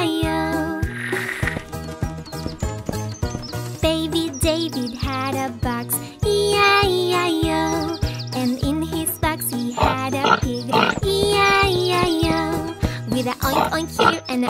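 Children's nursery rhyme song with a cartoon pig oinking in time to the bright, bouncy music, the oinks repeated rhythmically over a loud, steady backing track with a singing voice.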